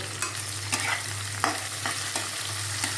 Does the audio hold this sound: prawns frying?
yes